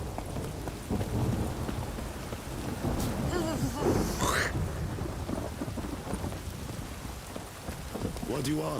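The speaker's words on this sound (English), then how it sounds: "A storm." Steady heavy rain with rolling thunder booming through it, a loud crack and rumble near the middle, continuous and close, in the video game The Witcher 3.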